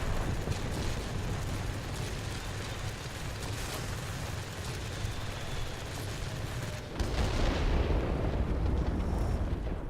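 Bombs dropped from an IL-2 ground-attack plane in the World of Warplanes game burst on ground targets, giving a dense, continuous roar of explosions with a heavier low boom swelling near the end.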